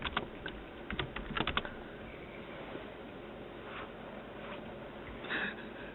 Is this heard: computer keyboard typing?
yes